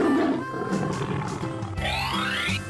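A tiger roar in a children's paint-and-animals cartoon game, a single loud growling call with a rising sweep near the end over bright music.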